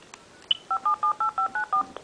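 A phone number being dialed to call a spy microphone: a short beep, then a run of about eight evenly spaced dual-tone keypad beeps, clear and close, with no speech.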